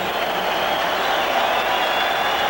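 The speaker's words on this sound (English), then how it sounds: "how about a round of applause for two heavyweights who came here to fight for all the fans here in Norfolk" Boxing arena crowd in Norfolk, Virginia applauding two heavyweight fighters after a fourth-round knockout, a steady distant roar of clapping and crowd noise with no pauses.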